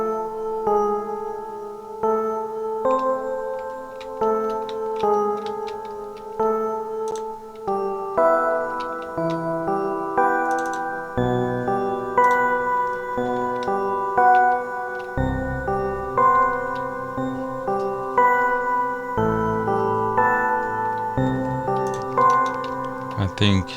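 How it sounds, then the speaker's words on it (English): A synthesizer part plays steady, sustained pad chords that shift in slow blocks, each note pulsing in a regular repeating rhythm, loud and close with no voice over it. "So now I want to show you the synth, which sounds like this."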